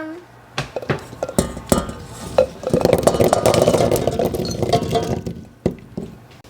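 Whole red plums tumble into a metal cooking pot, bringing clinks, knocks and a rolling clatter that build to a busier jumble, then ease off into a few sharp taps.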